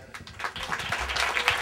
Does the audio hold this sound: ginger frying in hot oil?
no